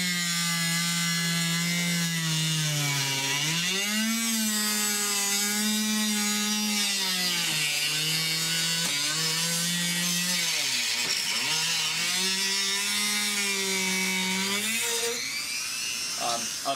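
A rotary tool cutting through armor material: a high, whining motor buzz with a strong steady pitch that dips and rises as it bites into the material, close and continuous for the whole stretch.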